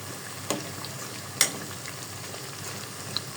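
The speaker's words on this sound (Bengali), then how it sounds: "এই যে পিঠাগুলো ভাজা হয়ে গেছে," Pitha cakes frying in oil give a soft, steady sizzle with a few sharp pops and crackles scattered through it, heard without any talk.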